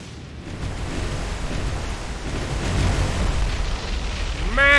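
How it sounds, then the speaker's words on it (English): A ship's magazine detonates in the naval video game War on the Sea, a broad rumbling roar that swells louder over several seconds, with a faint tonal sound entering at the end. "That was a huge explosion. Magazine detonation on the Kamikaze immediately."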